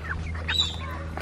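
Young homestead chickens cluck softly nearby over a low steady background hum, a few short clucks and murmurs scattered through a brief moment.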